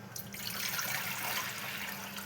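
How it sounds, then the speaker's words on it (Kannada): Water runs steadily into a pressure cooker on a gas stove, poured to boil sweet potato for a sweet payasam, a continuous close splashing flow with no talk. "ಸ್ವಲ್ಪ ನೀರು ಹಾಕೋಣ."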